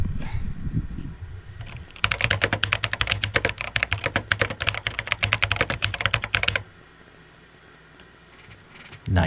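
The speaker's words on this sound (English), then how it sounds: "Ooh, and it even sounds like a Commodore keyboard." Rapid, dense typing on a Commodore 64 Ultimate Founders Edition's mechanical Cherry-switch keyboard, a steady stream of crisp close-up key clacks lasting several seconds before stopping abruptly, leaving quiet room tone.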